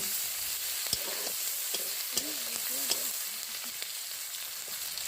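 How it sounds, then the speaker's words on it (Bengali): Chopped onion sizzles steadily in hot oil in a village kitchen pan, with a spatula scraping and knocking against the metal in a few irregular strokes over the crackling fry. "খুন্তির সাহায্যে নাড়াচাড়া করে হালকা করে পেঁয়াজটাকে একটু ভেজে নিচ্ছে।"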